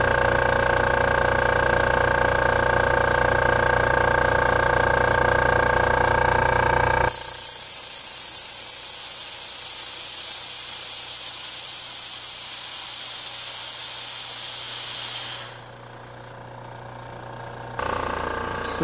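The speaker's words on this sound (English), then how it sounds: "So I put the intake to our tank, and it's pulling everything out of the tank." A compressor intake draws leftover gas out of a hydrogen generator tank on a motor home setup, a steady loud hiss and mechanical hum that shifts to a brighter rush midway, then drops off sharply near the end.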